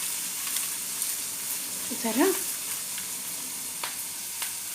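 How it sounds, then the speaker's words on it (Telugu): Ridge gourd peel fries in half a spoon of oil in a pan, a steady soft sizzle throughout with a brief stirring scrape partway, while a voice speaks a single word. "ఒక హాఫ్ స్పూన్ ఆయిల్ వేసి ఒక 2 నిమిషాలు స్లిమ్లో అలా వేయించుకుంటే బాగుంటుందండి"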